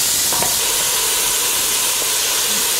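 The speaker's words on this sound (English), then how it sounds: "now we're gonna add those onions in there. And we are going to saute" Onions sautéing in olive oil in a pan, heard as a continuous loud, close hiss of frying with no pauses.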